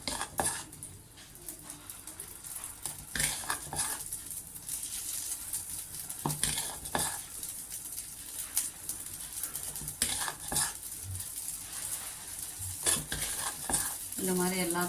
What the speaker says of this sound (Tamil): நம்ம பணியாரம் ஊற்றிக்கலாம்.